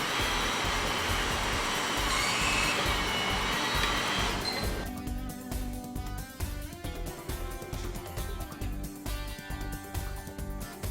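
A Huck 940 powerrig riveting tool swaging a collar gives a steady loud pneumatic hiss and whir that holds throughout, then drops to a lower mechanical drone with faint tonal hum, no voices.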